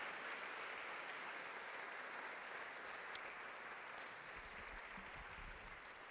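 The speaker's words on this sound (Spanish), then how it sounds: "Hay que darle un aplauso a ese Dios de quien estamos hablando esta mañana." A church congregation applauds during a Spanish-language sermon, steady, wash-like clapping from many hands filling the room at an even level and tapering slightly toward the end.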